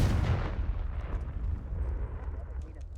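A Confringo fire spell bursts in Hogwarts Legacy, a loud, booming explosion with a heavy low rumble that fades slowly over a few seconds.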